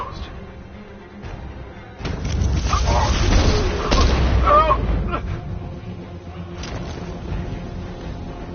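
A heavy explosion booms in Batman: Arkham Knight, a loud rumbling blast that swells and lingers for several seconds over a background score, with voices mixed in.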